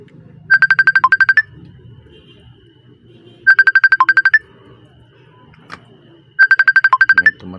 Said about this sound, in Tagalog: May tumatawag pa.